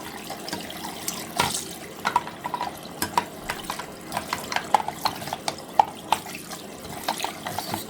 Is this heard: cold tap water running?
yes